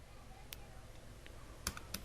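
Typing on a computer keyboard, a few faint, quiet key clicks in a hushed room.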